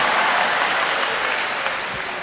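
A large audience claps steadily and loudly at a Tamil comedy speech, a dense, even wash of applause that holds throughout with no voices over it.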